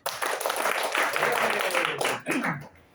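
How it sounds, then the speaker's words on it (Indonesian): An audience claps for about three seconds, a dense close patter that swells and then thins, with a short break before a final burst and fade; voices murmur faintly underneath. "Boleh kasih aplaus buat semuanya."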